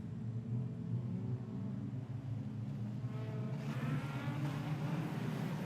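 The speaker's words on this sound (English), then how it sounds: "Green flag waves and we're racing once more." Street stock race cars at Kingaroy Speedway roar past at a dirt oval, a continuous engine rumble that swells as the field accelerates, moderately distant with no voices over it.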